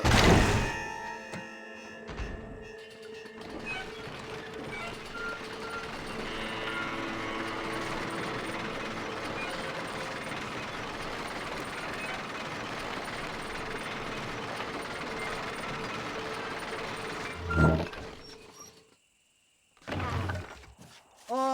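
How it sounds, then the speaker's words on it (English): Gears on a lift engaging in the Red Dead Redemption video game, a sustained grinding mechanical rumble with metallic ratcheting that runs steadily for most of the stretch, ending in clunks, a brief silence and then more machinery. "Load up and I'll engage the gears."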